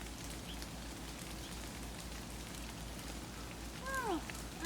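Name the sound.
afternoon rain shower sprinkling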